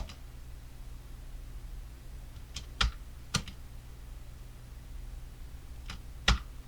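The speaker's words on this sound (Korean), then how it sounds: "홈 키 스페이스바 눌러서 재생해 보세요." Keys pressed on a computer keyboard in a quiet room, a few sharp isolated taps and clicks spaced over several seconds against a low background hum.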